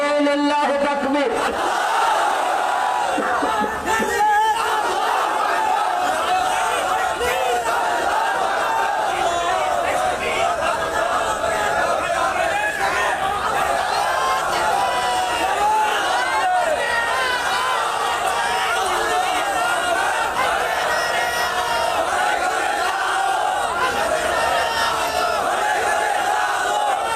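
A large crowd at a Bangladeshi religious gathering in Bhuapur, Tangail shouts the takbir, 'Allahu Akbar', in loud, sustained waves of massed voices that carry on for the whole stretch.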